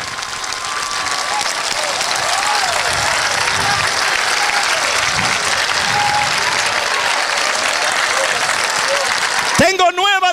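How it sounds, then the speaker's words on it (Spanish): A church congregation applauds during a sermon, a dense, loud, sustained roar of clapping and crowd noise, with faint voices and a brief tonal sound near the end. "denle un aplauso a Cristo."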